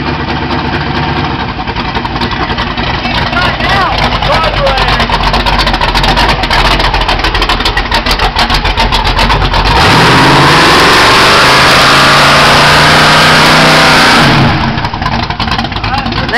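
A small truck's engine with a troublesome carburetor idles loudly up close, then revs hard into a sustained roar for several seconds before dropping back to idle, with people talking over it.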